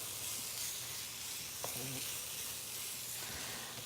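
Chicken stir-fries in a hot restaurant wok, a loud continuous sizzle and hiss that fills the whole stretch, with a brief clank of a utensil partway through.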